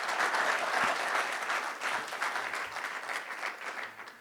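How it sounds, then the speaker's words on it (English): A live audience at a cattle industry conference breaks into steady applause, a dense wash of many hands clapping that slowly tapers off, alone without talk. "Let's give them a round of applause since we do have a live studio audience"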